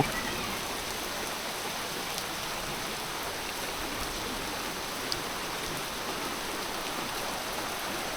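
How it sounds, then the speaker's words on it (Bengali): Heavy rain pours down in a dense, unbroken hiss, steady and enveloping with no pauses. "প্রচুর বৃষ্টি হচ্ছে প্রচুর"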